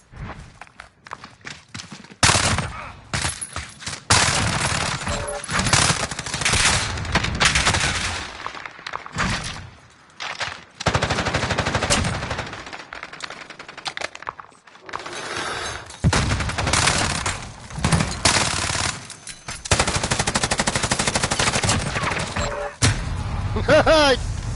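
Light machine gun fire in the video game Modern Warfare, loud bursts of automatic shots in repeated volleys with brief pauses, mixed with footsteps and game action.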